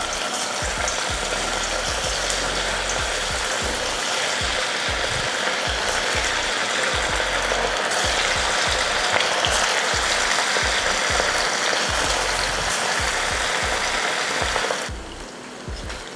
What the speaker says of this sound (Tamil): எண்ணெயும் நல்லா காஞ்சிருச்சு. இப்போ பொரிச்சிடலாம்.